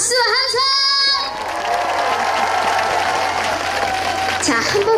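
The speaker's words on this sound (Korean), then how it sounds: "좋으셨다면 박수와 함성!" Applause and cheering from an outdoor audience at a temple music concert on Juwangsan mountain in Cheongsong, loud and sustained after a song, with whoops rising through the clapping.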